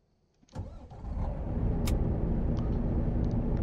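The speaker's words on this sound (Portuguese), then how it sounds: "Vamos ligar o caminhão." A heavy truck's engine cranks and fires up in American Truck Simulator, a sudden start that settles into a steady, loud idle rumble with a few faint clicks above it.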